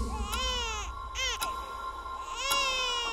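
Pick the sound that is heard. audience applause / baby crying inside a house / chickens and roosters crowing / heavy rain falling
baby crying inside a house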